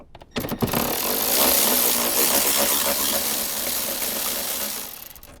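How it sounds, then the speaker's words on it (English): A ratchet with an extension and 10mm socket spins bolts out of a Toyota Tundra's interior, giving a steady, close mechanical whirring and clicking after a few sharp clicks at the start. "I'm going to recommend an extension with a 10mm socket."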